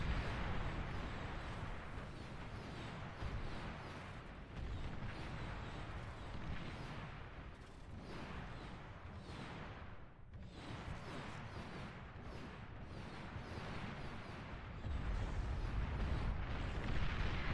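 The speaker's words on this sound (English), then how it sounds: "They're bombing it, they just don't have enough bombers." Bombing explosions rumble through a busy 8v8 RTS battle in a dense, continuous wash of booms and blasts, with heavier impacts toward the end.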